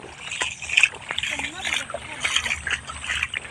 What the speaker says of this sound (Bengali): অনেক প্রচুর পানি আসছে